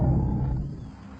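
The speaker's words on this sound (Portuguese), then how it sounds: "Nossa fêmea responde com seu próprio rugido de baixa frequência." A female big cat gives a deep, low-pitched roar, loud and close at first, then fading away over about a second, with no voices present.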